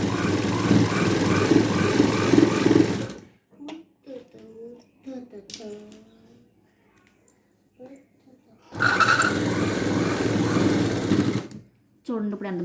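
A sewing machine stitches piping on a blouse in two steady runs of buzzing whir, close by. Someone speaks in the pause between the runs.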